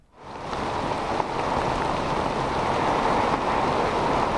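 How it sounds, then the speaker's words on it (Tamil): Heavy rain with strong cyclone winds during Cyclone Fengal in Puducherry, a loud, dense, unbroken roar of downpour and wind that rises quickly at the start and holds steady. "புதுச்சேரியில் தொடர்ச்சியாக 6 மணி நேரத்திற்கும் மேலாக பலத்த சூறாவளி காற்றுடன் கனமழையானது பெய்து வருகிறது"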